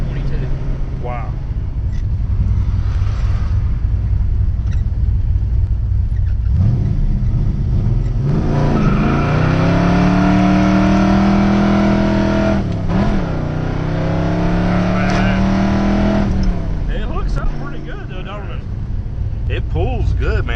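A 1971 Mercury Comet GT pulls hard from inside the cabin, its engine note climbing and holding through a long run, loud and steady, as people talk over it.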